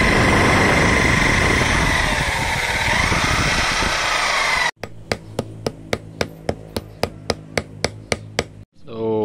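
A power sander works over a restored tanto knife with a continuous, loud, gritty whine for several seconds, then stops and gives way to a run of about a dozen sharp, evenly spaced taps.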